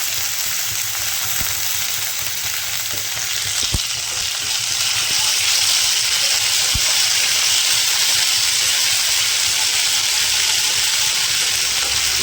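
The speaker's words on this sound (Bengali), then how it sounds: "ভালো করে আদা রসুনটা কষিয়ে নিতে হবে" Ginger garlic paste with a little salt sizzles in hot oil in a pan, a loud steady frying hiss that runs without a break.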